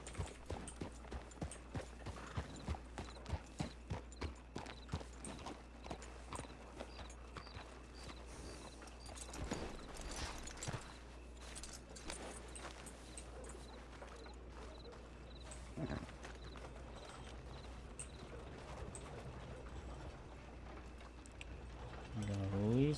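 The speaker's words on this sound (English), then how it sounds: "there's a lot of horses" Horses' hooves clip-clop on the ground in a Western-era video game, starting as a quick, regular trot and turning into scattered steps and clatter, all faint and in the background.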